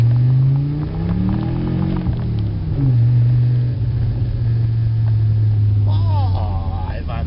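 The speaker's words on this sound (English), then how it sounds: "Oh, I want the cars to sound like this all the time!" A car engine revs close by, its loud steady drone climbing and falling in pitch through the whole stretch, with voices briefly breaking in near the end.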